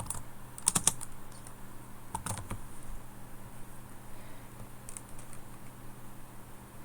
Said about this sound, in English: So you type your supervisor's name into the box.